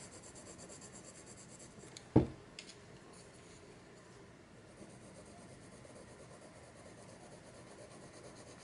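Colored pencil shading on paper as soft, continuous scratchy strokes, quiet and close, with one sharp knock partway through.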